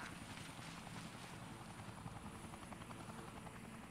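A helicopter in the Yakuza 4 video game gives off a constant rotor chop and engine whine, faint and steady throughout with no talking.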